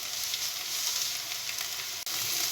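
Chopped onion and garlic, lightly salted, sizzle steadily in a frying pan, a close and continuous crackling hiss with one brief break near the end.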